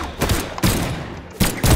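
Rapid bursts of gunfire from the video game Brawlhalla, three loud, close volleys separated by brief gaps, with no speech over them.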